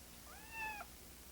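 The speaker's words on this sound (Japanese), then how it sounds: "あれ、猫がいますよ。" A cat gives a single short, rising meow, clear and fairly close, over a quiet steady background hum with no speech.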